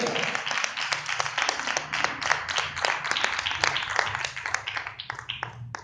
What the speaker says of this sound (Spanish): De una ofrenda de palmas al Rey.